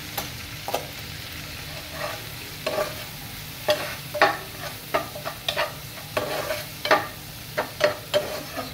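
Turmeric, cumin and coriander powders stirred in a frying pan, close by, with repeated scraping strokes over a soft, steady sizzle and no talking.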